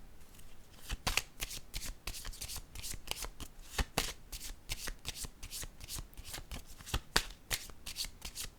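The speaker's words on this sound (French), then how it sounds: "Je vais déposer une autre carte." Playing cards being shuffled and laid down on a table, a steady stream of close, crisp riffles, flicks and snaps in irregular rhythm over several seconds, with no talking.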